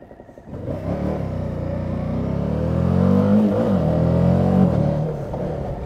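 A Suzuki V-Strom 1050 adventure motorcycle rides along, its engine droning steadily and rising in pitch as it accelerates, then easing off, heard close with wind rush and no talk.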